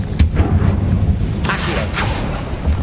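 The Incendio fire spell cast in the video game Hogwarts Legacy, a loud rumbling whoosh with crackling bursts and a fiery roar that swells and fades over a few seconds amid game background noise.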